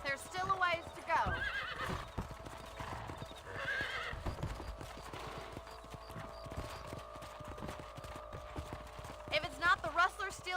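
Horse hooves clip-clopping steadily as riders mount up and patrol a ranch property in the video game Red Dead Redemption on PC, with whinnies near the start and end and spoken talk throughout.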